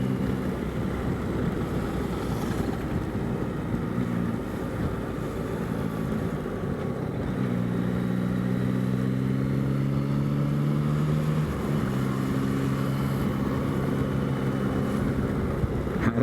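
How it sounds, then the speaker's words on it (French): Car engines drone and rise in pitch as they accelerate during a sailing event on the water, with wind buffeting the microphone, steady and moderately loud, sustained tones shifting upward in several passes. "il y a des voitures qui accélèrent"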